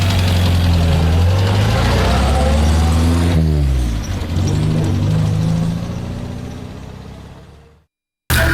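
A car engine starts up loud and close, rumbling and shifting in pitch as it revs, then gradually fades before cutting off abruptly.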